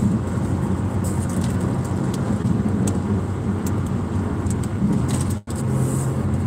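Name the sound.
car driving on the road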